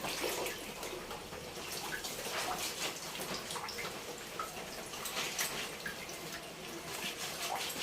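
Heavy rain falls outside, a dense steady patter and splash of water with scattered drips, continuous and moderately faint, heard alone without talk.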